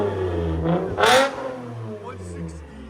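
A 2019 Toyota Avalon 3.5L V6 with straight pipes holds a low, even idle, then gives one sharp, loud rev that swells and falls back to idle, with people talking over it.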